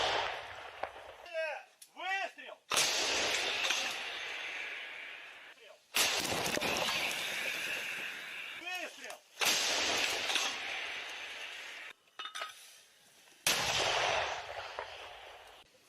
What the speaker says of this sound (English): Russian soldiers, mortar team.